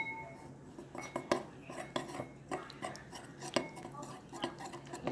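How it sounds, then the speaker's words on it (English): Linguine noodles being stirred with a chili glaze in a pan, utensil scraping and clinking against the metal in a steady series of close, soft taps and scrapes with no talking. "I'm going to start to stir"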